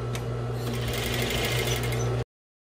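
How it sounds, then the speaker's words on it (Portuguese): A sewing machine stitches small cloth doll sleeves in one continuous loud mechanical whir with a steady hum, then cuts off abruptly. "E vamos costurar."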